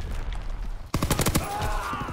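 Rapid bursts of gunfire in a ranked capture-the-flag match of a multiplayer shooter game, several quick cracking shots clustered close together after a short lull.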